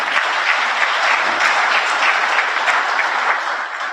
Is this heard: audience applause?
yes